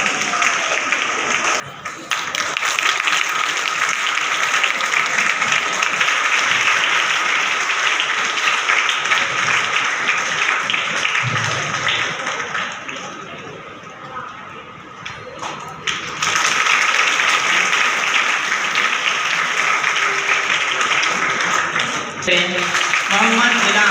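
An audience at a felicitation ceremony for Urdu-medium SSLC toppers claps loudly and continuously for a gold-medal student, with a brief dip in the middle before the applause swells again.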